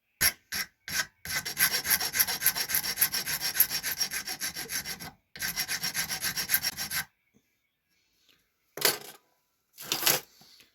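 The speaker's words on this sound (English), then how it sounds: "With that 420 sandpaper. You just keep working that down until it's nice and smooth" Fine 420-grit sandpaper rubbing back and forth along the edges of a handmade jewelry piece, a steady close scratchy sanding in long bursts with brief pauses and a couple of short strokes near the end.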